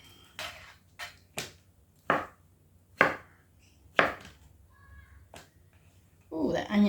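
Onion chopped with a knife on a board in a home kitchen: about eight separate, fairly loud knocks spaced roughly half a second to a second apart, close up, with a voice starting at the end.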